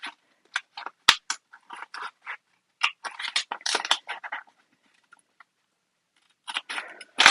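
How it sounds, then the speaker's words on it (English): Sharp scissors snip through fabric pattern pieces in quick, close bursts of crisp cuts, pausing briefly before another run of snips. "Just use a really sharp pair of scissors to cut them out."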